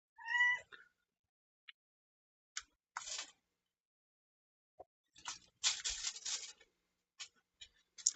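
A pet cat named Fruits gives a single clear, close meow at the start, followed by scattered soft rustles and taps, with no voices.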